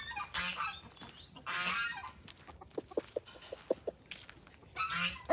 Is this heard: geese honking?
yes